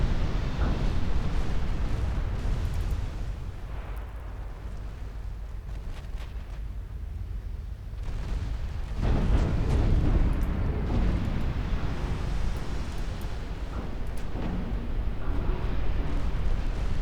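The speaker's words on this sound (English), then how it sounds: "So the light cruisers are just joining in with their incendiary high explosives." Light cruisers firing incendiary high-explosive shells in the naval strategy game Ultimate Admiral Dreadnoughts, a sustained rumbling barrage of distant booms and explosions rolling on without pause.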